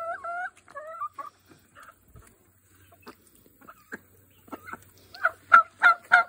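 A duck or goose honks in a string of short, nasal calls close by, a few at the start, then sparse quiet calls, and louder honks bunched near the end.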